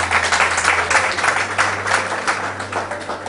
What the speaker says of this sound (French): faut l'applaudir c'est lui